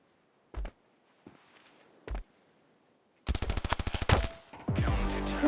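Video game duel gunfire: a few isolated single shots and thuds, then a loud rapid burst of automatic fire, a brief pause, and another dense burst, close and punchy with no talk.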